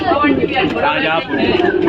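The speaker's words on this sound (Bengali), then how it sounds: "এবার পরের পায়রা আপনাদের দেখাচ্ছি" Several pigeons coo in soft, throaty, overlapping calls close by at a pigeon market, with someone talking over them.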